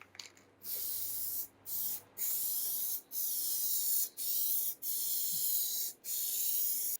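Raptor liner sprays onto a Nissan coupe in eight or so hissing bursts, each lasting about half a second to a second, separated by brief pauses.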